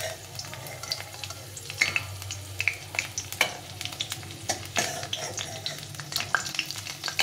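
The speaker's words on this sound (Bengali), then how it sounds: "আলুটাকে আমি এভাবে লাল লাল করে ভেজে নিলাম।" Potatoes frying in oil in a pan for a cauliflower dish, a steady close sizzle with frequent crackles and pops, plus occasional stirring scrapes and no voices.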